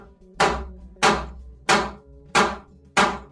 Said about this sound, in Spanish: Y los vamos a aflojar a puro martillazo.